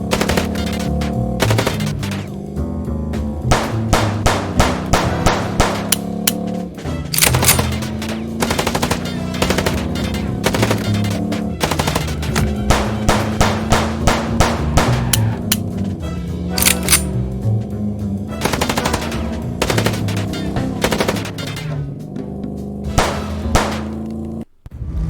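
Rapid automatic gunfire bursts from the Chicken Police video game, loud and close, with long rattling volleys broken by short pauses and a few single shots near the end.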